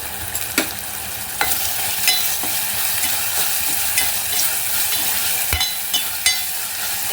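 Onion and chili sizzle in a pan for prawn masala, a loud, continuous frying crackle broken by sharp scrapes and taps of a stirring spoon against the pan.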